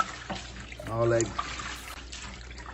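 Tap water runs while pre-washed greens are rinsed and scrubbed at home. It makes a steady, close splashing trickle under a man's speech.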